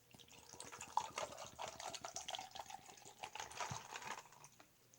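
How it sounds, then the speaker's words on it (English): Sweet iced tea poured from a bottle into a small tumbler, a quiet trickling splash with faint clinks and taps close by, the stream running unevenly for several seconds. "I'm just gonna pour some in my little tumbler"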